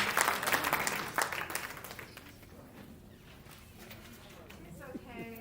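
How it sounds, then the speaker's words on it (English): Clapping from an audience at a council meeting rises at first and gradually thins out, with scattered voices mixed in across the room. "y'all clap louder than Wizard"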